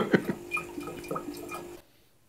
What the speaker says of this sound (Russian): с помощью таких насосов можно перекачивать воду